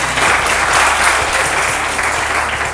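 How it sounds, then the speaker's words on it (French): Audience applause at a competition event, a loud, steady wash of clapping that fades slightly toward the end, with a low background hum. "Merci, on les applaudit."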